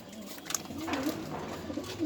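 Damascene pigeons coo softly on a pigeon farm in a short, low murmuring call, with a voice faintly present in the background.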